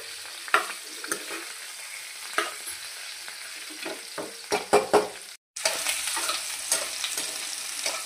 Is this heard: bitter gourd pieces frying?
yes